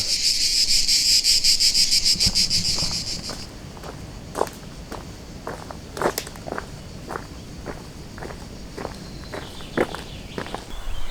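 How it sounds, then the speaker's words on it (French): Dense, steady cicada chirring fills the first few seconds on a mountain walk in the south, then fades, leaving crunching, evenly paced footsteps on a rocky path with background insects. "Je suis entouré de cigales et j'en vois aucune."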